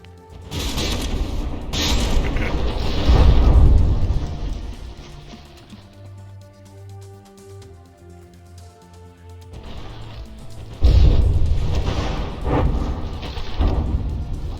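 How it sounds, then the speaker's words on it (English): Battleship shell slamming into a turret in the From The Depths naval combat game, heavy booming crashes with rumbling impacts at the start and again later, loud with a quieter mechanical stretch between. "That shell went straight in through the barbette."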